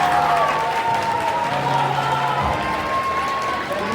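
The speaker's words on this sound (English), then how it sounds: "Guys, give them a round of applause." An audience at a school Black History Month program claps, steady applause filling the room for several seconds at a loud, even level.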